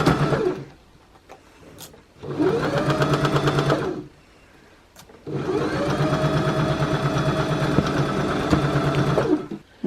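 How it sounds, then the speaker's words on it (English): A sewing machine stitches up the sides of a pocket on a child's traditional Norwegian bunad vest, running in three steady bursts of a few seconds each, separated by short pauses. "Now we're sewing up the sides of the pocket,"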